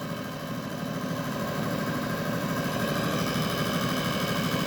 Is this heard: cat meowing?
no